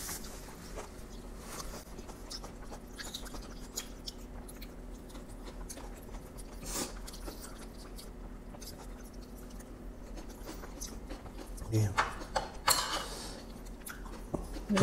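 Kimchi being chewed close up during a mukbang meal: quiet, irregular crunchy bites and wet chewing, with a few sharper clicks and louder bites near the end.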